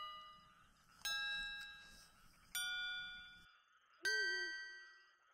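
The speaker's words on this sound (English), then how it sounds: "Ring that bell again." A church bell rings in the video game Oh! RPG!, struck three times at even intervals. Each bright, ringing strike lingers and decays before the next, with no other sounds around it.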